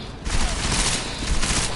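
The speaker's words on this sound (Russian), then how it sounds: "какая хорошая стрельба в этой игре" Dense, continuous video game gunfire crackles loudly throughout, a rapid fusillade of shots with no pauses.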